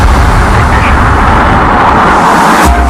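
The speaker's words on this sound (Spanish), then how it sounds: "Sin previo aviso, uno de los tanques de la nave saltó por los aires." Apollo 13 spacecraft oxygen tank explosion, rendered as a loud, sustained deep rumbling roar with heavy low-end energy lasting throughout, with no voices.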